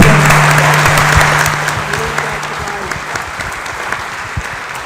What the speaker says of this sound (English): can we just have another round of applause, Josie, for a fantastic...